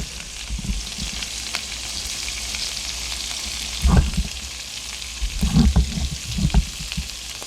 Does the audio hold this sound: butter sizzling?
yes